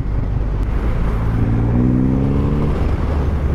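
The big engine of a Triumph Rocket 3 motorcycle drones loud and close, with a deep rumble climbing in pitch as it revs, no voices.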